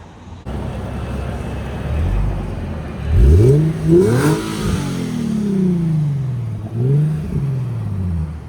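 A Nissan G37 engine with an aftermarket HKS Hi-Power exhaust revs up and falls back several times, a deep throaty exhaust rumble over steady idle noise, fairly loud and close.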